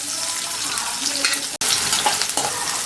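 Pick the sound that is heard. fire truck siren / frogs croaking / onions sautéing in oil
onions sautéing in oil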